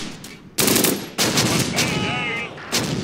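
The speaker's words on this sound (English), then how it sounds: "Panzer Grenadiers keep firing." Panzer Grenadier infantry firing in the Close Combat war game, loud bursts of rifle and machine-gun fire in close succession, with sharp onsets near the start and middle and sustained rattling throughout.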